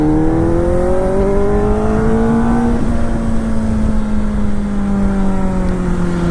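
A Kawasaki Ninja ZX4R motorcycle engine pulls hard in fifth gear with a steady, loud drone. Its pitch climbs, dips briefly near the middle, then holds high and even with no talking.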